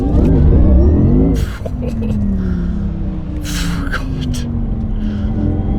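A 1100 HP Porsche driving up a mountain pass, a loud engine drone that shifts pitch as it revs, heard from inside the car while someone talks.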